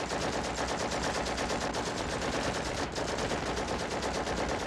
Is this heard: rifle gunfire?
yes